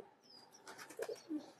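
A pigeon coos faintly, a few soft low notes near the end of the recording, over quiet background noise.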